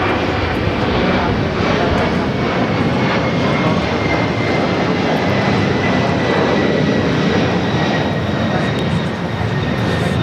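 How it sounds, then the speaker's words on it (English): A Delta Air Lines Boeing 767-300ER takes off from Los Angeles International Airport bound for JFK, a loud, sustained jet roar holding steady throughout. "939 taking off to JFK on the 767-300ER"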